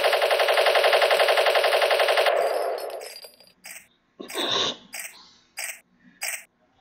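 A machine gun weapon in the Desktop Destroyer game fires a rapid, even, loud rattling burst for about two seconds, then stops. Scattered louder crunching bursts of impact follow.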